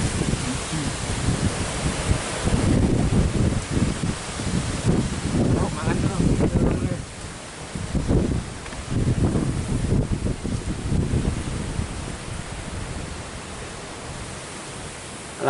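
Strong wind gusts roar across an outdoor fishing spot, making a loud broadband rush into the microphone that swells and eases over about fifteen seconds. A few faint voices surface briefly beneath it.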